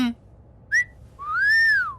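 Short human whistles, first a quick chirp and then a longer rising-and-falling tone, stand out clearly over a quiet room.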